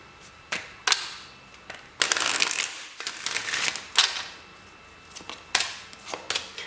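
Tarot cards are shuffled in several quick riffling bursts, sharp papery flutters separated by short pauses, close and fairly loud.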